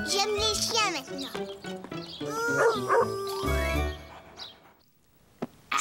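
A cartoon dog barks in a French children's animated show, several yips and bow-wows mixed in with bright, lively children's voices and music, fading toward the end.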